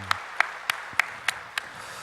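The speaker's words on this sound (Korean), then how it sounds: "우리 한번 다시 힘찬 격려의 박수, 감사의 박수 보내주시면 고맙겠습니다" A church congregation claps in thanks during a service, heard as six evenly spaced, crisp claps in a steady rhythm over a quiet room.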